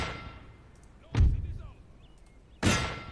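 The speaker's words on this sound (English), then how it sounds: "Cannons are causing lots of wonderful, wonderful damage." Two cannon shots in the Napoleon Total War video game, deep booming blasts about a second and a half apart over a low battlefield background hum.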